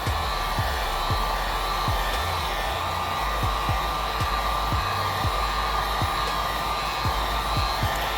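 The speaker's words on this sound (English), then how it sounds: "The goal here is to allow the heat gun to hover over the image to go ahead and melt the powder" A heat gun on a low setting hovers over a DTF print to melt the powder, blowing a steady, loud airflow hiss without a break.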